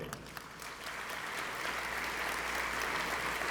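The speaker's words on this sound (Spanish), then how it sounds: "Palmas nuevamente." An audience at a science lecture applauds a speaker, a continuous dense clapping that builds slightly and holds steady throughout, with a faint low hum beneath.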